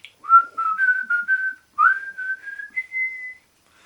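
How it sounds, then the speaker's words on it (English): Someone whistles a short, clear tune alone in two quick phrases, the second ending on a held note, close and with no other sound behind it. "Well, the whistling thing,"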